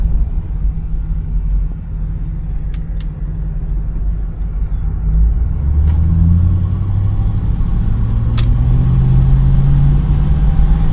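A 1981 Oldsmobile 98 Regency engine hums steadily with rising pitch as it accelerates, a low rumble from inside the cabin, with a couple of faint clicks.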